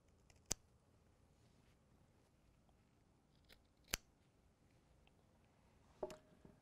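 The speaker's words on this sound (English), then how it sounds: "So we just use our tuco snips to cut it back at the central tube" Tool snips cut water-blocking tape on a ribbon fiber optic cable near the central tube, giving three sharp, quiet snips spaced a few seconds apart over faint background noise.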